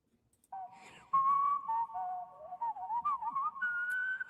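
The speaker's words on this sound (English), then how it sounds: "the national anthem being whistled" A national anthem whistled by a single person, a clear, sustained melody rising and falling close to the listener, carrying on alone for several seconds after a quiet start.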